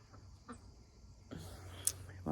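A hen clucks faintly in a chicken coop during morning chores, with a few soft, scattered clucks over steady low background noise.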